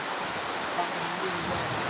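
Cloudburst-like heavy rain pours steadily in Pirachi Kuroli, a dense, constant roar of water without letup.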